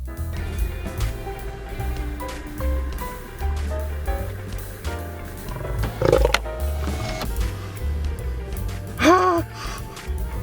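A lion in South Africa roars loudly and close, with deep, rumbling growls repeating over a low outdoor drone and a strained, rising call near the end.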